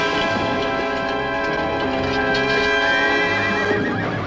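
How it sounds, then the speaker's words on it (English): A horse neighs loudly with a long, wavering whinny over the clatter of hooves in a colorized 1957 Zorro television episode, the call carrying close and dominant throughout. "Take his horse, Don Nacho"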